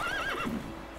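A horse whinnies in The Witcher 3 on Xbox One X, a single near, wavering neigh that falls in pitch, followed by faint hoof clip-clops, with no talk over it.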